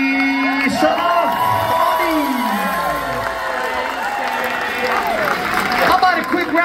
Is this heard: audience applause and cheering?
yes